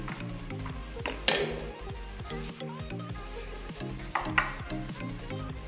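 Spices sizzling and being stirred in a pan on medium flame with tomato paste, red chilli powder, turmeric and garam masala, a steady low fry with two brief bursts of scraping as the mixture is stirred.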